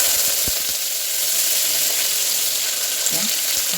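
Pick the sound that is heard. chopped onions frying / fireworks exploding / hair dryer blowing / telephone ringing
chopped onions frying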